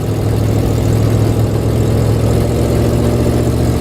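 A 1973 Dodge camper with a three-speed 727 automatic transmission drives under acceleration, its engine a steady, loud, low droning hum that holds constant throughout, close up from inside the cab.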